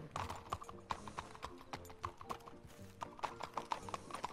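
A horse's hooves clip-clop in an uneven walking rhythm, the sharp knocking strikes close and fairly quiet with brief gaps between groups of steps.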